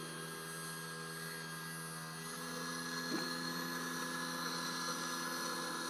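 An electric tilt motor lowers the outboard engine on a Whaler boat, producing a faint, steady mechanical whine with a constant tone that holds throughout.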